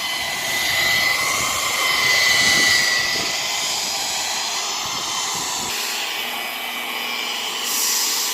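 A machine polisher whirs steadily on a carbon fiber car hood during polishing, a loud, close, continuous hum and hiss that dips slightly in pitch partway through as pressure shifts, with no voices.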